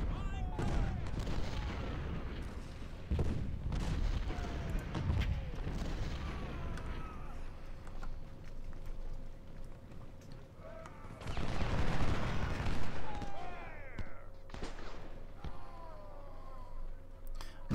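Gunfire and artillery fire in Ultimate General: Civil War at the Battle of Chickamauga: scattered rifle volleys and booming cannon shots, with a heavier burst of fire near the end, under battle noise.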